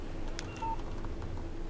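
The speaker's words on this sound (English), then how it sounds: "Text message from Barry." A phone in the Alan Wake video game sounds a text message alert: a short series of quick, soft electronic tones and beeps over a quiet background hum.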